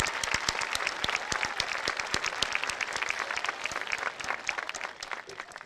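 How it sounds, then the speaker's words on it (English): An audience applauds for the staff at a 2017 high school graduation ceremony, dense steady clapping from many hands filling the hall for several seconds before starting to thin out. "I think they deserve a round of applause"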